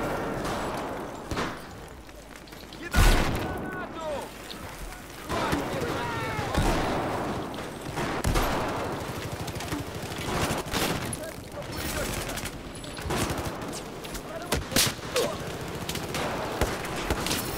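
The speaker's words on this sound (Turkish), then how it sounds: "Shotgun, shotgun. Arka arkaya spam ediyor." Rapid shotgun blasts from a UTS-15 in Battlefield 4, sharp repeated reports spread through dense battle noise, with gunfire and explosions layered under a talking voice.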